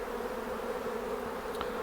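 Honeybees buzzing during a hive inspection, a continuous close droning hum of many bees, steady and fairly loud throughout, with no talk.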